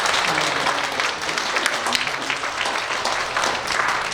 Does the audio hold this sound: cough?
no